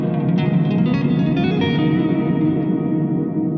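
Guitar played through a Fender Hammertone Reverb pedal with the damping turned up and top end reduced, a dense wash of sustained notes and reverb tail filling the clip steadily and loudly, no voice.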